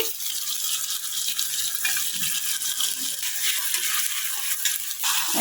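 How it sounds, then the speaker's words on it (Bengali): Dried puti fish shutki frying in oil in a pan, a continuous bright sizzle with faint scraping and stirring sounds mixed in, moderately loud and without voices. "এই যে এখানে তেল দিয়ে নিলাম, তারপরে দিয়ে দিব শুটকিটা।"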